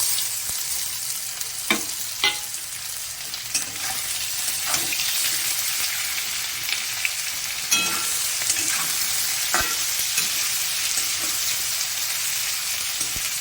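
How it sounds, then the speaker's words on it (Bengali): Steady sizzling of potatoes, onions and green chillies frying in a pan, with occasional stirring scrapes and clicks; close up, no voices. "আলুটা প্রায় ভাজা ভাজা হয়ে গেছে, এবার আমি পেঁয়াজ আর কাঁচা লঙ্কাটা দিয়ে দেবো।"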